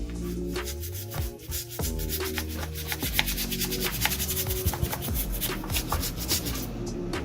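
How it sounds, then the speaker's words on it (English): A brush scrubs degreaser into a dirty, oily engine, giving quick, rough back-and-forth strokes up close. The scratchy bursts come one after another with small pauses, and no voice is heard over them. "As you can see, I'll take a brush to it like we did before."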